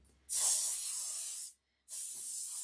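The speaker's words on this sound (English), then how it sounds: "Or you can spray it with hairspray, which I'm going to do here." Hairspray hisses from an aerosol can onto a soft pastel bird painting in two close bursts: a long spray, a brief pause, then a second shorter spray.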